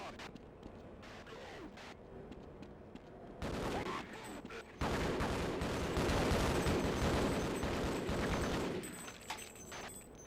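Shots from the player's gun in the video game Half-Life on PS2: quieter shots at first, then a short loud burst, then a longer, sustained stretch of loud rapid gunfire that fades toward the end.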